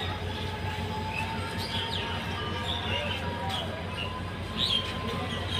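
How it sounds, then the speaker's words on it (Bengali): Lalmoni Express pulling out of Mahimaganj railway station, a low steady rumble and rolling hum with faint squeals and bird chirps above it, continuous and moderately distant. "তো আমাদের ট্রেনটি এখন ছেড়ে দিচ্ছে।"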